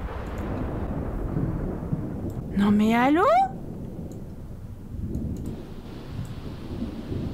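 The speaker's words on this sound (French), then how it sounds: "L'orage qui tape limite à l'intérieur de la maison là" A thunderstorm in The Sims 4 rumbles as a steady low roar behind the scene, with a voice briefly rising in pitch over it partway through.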